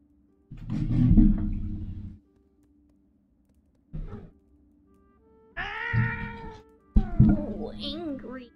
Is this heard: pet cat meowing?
yes